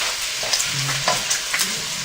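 Venison and bacon brown in a hot pan with a steady close sizzle, broken by soft stirring scrapes and no talk.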